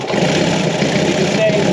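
Peugeot P4 diesel engine, under restoration and prone to cutting out, rumbling and revving close up in a loud, rough, continuous drone, with someone talking over it.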